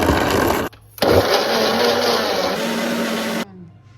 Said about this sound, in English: So I'm going to mix all my ingredients and put it in the mixer.